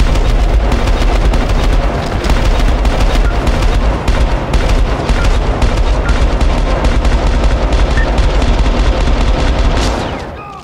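Loud, dense automatic gunfire rattles almost nonstop for about ten seconds in the video game Syndicate, then fades out at the end.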